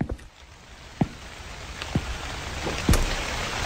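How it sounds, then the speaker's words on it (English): Summer rain falls as a soft steady patter, with a few louder individual drops landing nearby. "It may be raining on this summer day"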